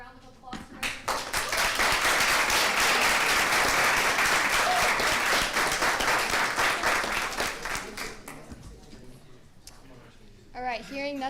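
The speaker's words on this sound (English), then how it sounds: "She just wanted everybody to give her 2 interns up front a round of applause for her." Applause for two interns at a student government meeting, a sustained round of clapping from a room of people lasting several seconds before fading, with voices talking afterward.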